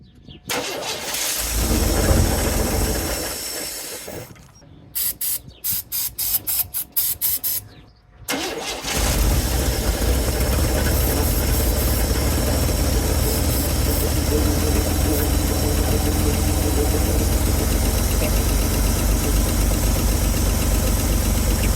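A 1970 Chevrolet C-10 pickup with a carbureted engine is cranked twice in stuttering bursts with a pause between. It then catches and settles into a loud, steady, slightly rough idle that runs on without stopping.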